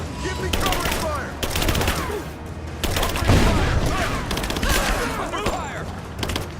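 Sustained gunfire in the video game Rise of the Tomb Raider, repeated bursts and volleys crackling across the whole stretch with loud peaks, set under a muffled background of shouted voices and battle noise.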